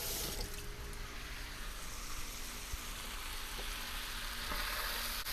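Potatoes frying in a skillet give off a steady, dense sizzle that holds at an even loudness from start to finish, close by and with no voices.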